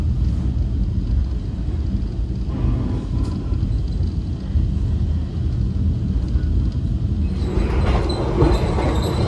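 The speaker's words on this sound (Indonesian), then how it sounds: "kereta api Banyu Biru maksimal kecepatan operasionalnya cuma 100 km per jam saja" The Banyubiru passenger train runs at speed between Solo and Semarang, heard from inside as a steady, loud rumble of wheels and carriages throughout. A faint squeal comes in near the end.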